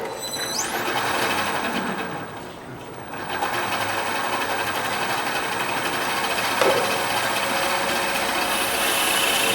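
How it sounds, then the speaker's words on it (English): A wood lathe spins while sandpaper works the top of a turned wooden acorn, giving a continuous, fairly loud mechanical whir with a steady tone, dipping briefly and then holding even to the end. "So I've got the sandpaper, sand up the top here a bit."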